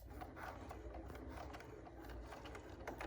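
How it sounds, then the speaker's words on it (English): A Bernina sewing machine stitches in reverse for a few stitches while a face mask is sewn, giving a quiet, steady mechanical whir with soft ratcheting clicks, heard alone. "I'm going to use my quick reverse button to stitch back about 4 stitches"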